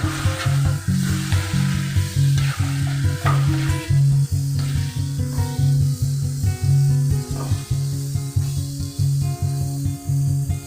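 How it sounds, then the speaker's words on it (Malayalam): A spoon stirs a soya chunk pickle mixture with vinegar in a pan, scraping in a steady repeated rhythm over a constant sizzle of hot oil, close and loud with no talk. "നല്ലപോലെ ഒന്ന് മിക്സ് ചെയ്തെടുക്കാം"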